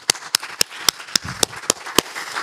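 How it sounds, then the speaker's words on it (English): Congregation in a church giving a hand clap of praise: about nine sharp, evenly spaced claps in quick succession, loud and close, with no talking. "let's give ourselves a God bless you hand clap"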